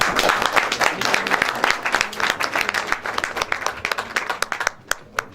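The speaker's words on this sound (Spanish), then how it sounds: "Un fuerte aplauso, por favor." Audience applause for a university rector at a formal event, a dense burst of clapping that gradually thins out into a few scattered, separate claps near the end.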